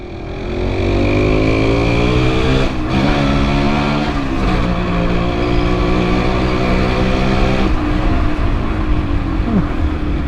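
A motorbike engine drones loud and close while riding, a steady heavy hum with gear-like pitch shifts and brief dips as the throttle changes, no talk.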